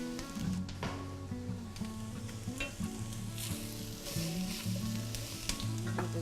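Cauliflower sizzles in olive oil in a soup pan, a steady close frying crackle running throughout with stirring and scraping sounds layered over it.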